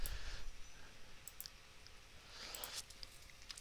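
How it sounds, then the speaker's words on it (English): Keys are typed on a computer keyboard into a spreadsheet, faint scattered clicks in small bursts over a quiet room. "And Foreman is an Iceman, which is what I'm trying to type in"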